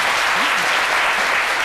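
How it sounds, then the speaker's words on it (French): A television studio audience breaks into applause on a daytime talk show, dense steady clapping that fills the whole moment at close range. "Je vous demande d'applaudir,"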